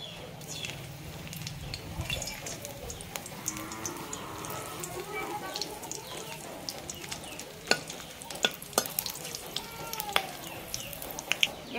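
Whole spices (black peppercorns, cinnamon, mace, green and black cardamom, three cloves) and a bay leaf crackle and sizzle in hot oil for a Kolkata-style kosha mangsho, a steady fry noise with sharp pops toward the end and no talking.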